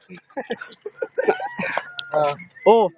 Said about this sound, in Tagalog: Di ba ang daming manok?